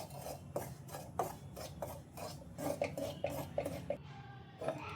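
Dry ingredients roasted in a pan with steady, rhythmic scraping and stirring strokes of a spatula against metal, close and continuous with no talking.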